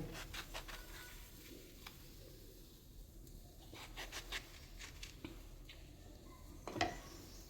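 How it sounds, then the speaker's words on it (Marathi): Knife cutting brinjals (eggplants) on a board at home, a series of faint, quiet ticks and taps spaced irregularly, with one sharper knock near the end. "सर्व वांगे आता मी इथे कापून घेते."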